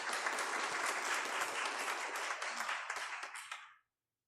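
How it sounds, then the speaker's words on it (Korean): A church congregation at a Sunday worship service applauds the choir and video editor with dense, steady clapping that fills the room, then stops abruptly near the end. "또 격려의 박수를"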